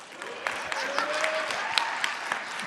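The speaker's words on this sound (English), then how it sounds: "I pause for a round of applause." A conference audience at the AfriLabs Annual Gathering claps in a steady, moderately loud round, with a few sharper claps standing out and a faint voice or cheer rising briefly in the middle.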